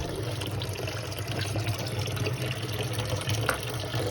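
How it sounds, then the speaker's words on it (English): Water draining from the plumbing of a Lakota Colt LQ horse trailer during de-winterizing, a steady close trickling and splashing flow onto a driveway with no talking. "So we got some clear water coming now."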